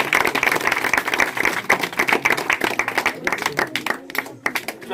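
Audience claps at an award ceremony for schoolchildren in Simra Chauraha, a dense, steady patter of many hands lasting throughout, with voices murmuring underneath.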